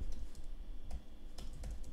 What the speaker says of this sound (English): I also have a new keyboard, so my typing is a little funky.